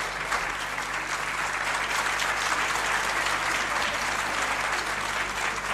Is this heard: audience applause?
yes